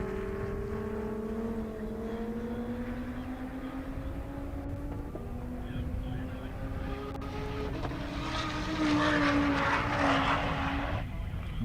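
A Viper drag car accelerating down a half-mile airstrip, a loud sustained engine roar that climbs steadily in pitch over several seconds as the car pulls away, with a rising wash of noise near the end.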